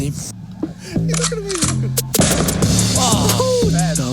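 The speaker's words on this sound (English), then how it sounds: "I have a reload and then a gunshot" A metallic gun reload clack followed by a sharp gunshot burst, layered with busy, echoing effects and a voice underneath.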